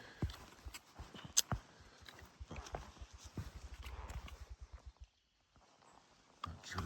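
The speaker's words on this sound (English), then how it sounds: "that was a grouse flapping its wings. Thud, thud, thud, thud, thud, thud" A grouse beats its wings on a forest trail in the Kananaskis hills, giving a rapid run of low, hollow thuds that speed up into a drumming roll and then stop, followed by near-silence and faint rustle.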